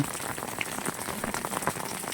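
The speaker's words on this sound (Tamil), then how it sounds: "சடன்னு பெய்யுது மழை" Sudden rain pattering down on a surface, a steady dense hiss of drops with scattered sharper splashes, close and continuous with no voices.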